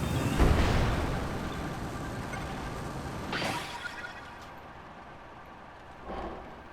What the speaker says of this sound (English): So the rocket gave us a nice initial burst of speed